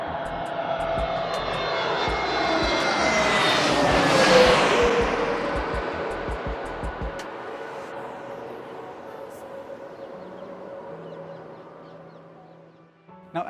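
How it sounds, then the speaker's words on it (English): An IndiGo Airbus A320 from Delhi comes in to land, a loud rising and falling jet roar with whining engine tones that peaks and then fades as the plane passes near a rooftop. "right now an A320 Indigo from Delhi is landing right about"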